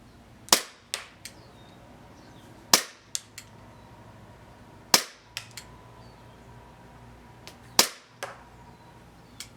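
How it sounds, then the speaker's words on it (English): An Elite Force Glock 17 airsoft pistol running on green gas fires four sharp, loud shots about two seconds apart, each followed by quick smaller clacks from the slide cycling and pellets striking, with no talking. "now we're going green gas on the Glock 17."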